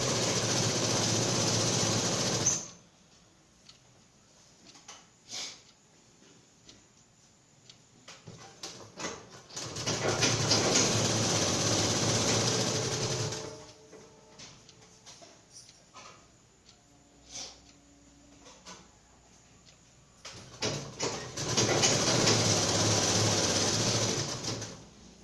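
A sewing machine stitches piping onto a blouse in bursts of steady, even whirring. Each run lasts several seconds, with quiet gaps of small handling noises between them.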